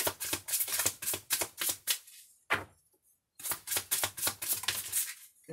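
Tarot cards shuffled and drawn by hand during a reading, a rapid run of crisp flicking riffles, a short pause with a single snap, then another quick flurry of close card flutters with no talking.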